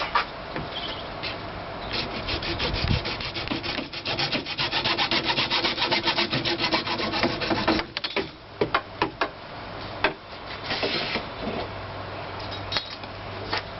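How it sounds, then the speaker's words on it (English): A hacksaw cuts through a golf club core, with rapid rasping back-and-forth strokes close by, steady at first, then breaking into shorter separate strokes toward the end. "So, again, just hacksaw. Let's go ahead and cut that off."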